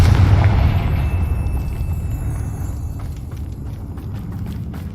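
Video game spells Bombarda and Confringo blast a bridge apart, a loud booming explosion at the start that rolls into a long rumbling, crackling debris tail fading slowly over several seconds, with no voices.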